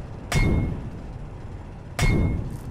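A static drill switching on in the Space Engineers video game, heard as two sharp metallic clanks with ringing tones, each followed by a dull mechanical whir that fades.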